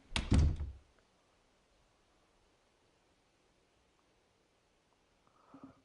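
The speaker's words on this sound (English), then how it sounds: "With the door closed shut" Door closing shut in a visual novel game: a single heavy thunk at the start, then near silence, with a faint muffled shuffle at the end.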